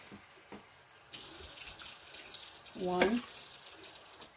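Water poured into a cooking pot in a kitchen, a short splashing pour rising briefly near the middle over a low steady background hiss.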